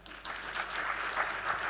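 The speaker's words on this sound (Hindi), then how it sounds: "इसीलिए इसके लिए भी जोरदार तालियां" Moderately quiet applause rises from the audience at a youth retreat thanksgiving ceremony at St. Xavier's College, a steady patter of clapping that swells slightly over the short stretch.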